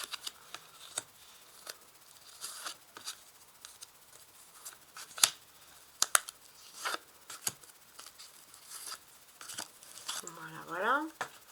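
Tarot cards laid one by one onto a table, a string of sharp, irregular flicks and soft slaps close by, with a brief rising voice-like sweep near the end.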